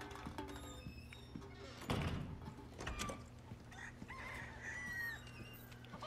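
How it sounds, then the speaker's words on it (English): Chickens and roosters in Resident Evil 4 cluck and squawk repeatedly in a quiet rural game setting, with scattered soft thumps and footsteps; no talking. "Hello, chickens and roosters."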